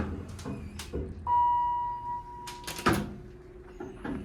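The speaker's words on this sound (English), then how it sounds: "Door close works." A Dover Impulse hydraulic elevator door at Macy's Home, Concord Mall, slides shut, with a steady hum and clicks followed by a thud as the panels meet, heard close and alone.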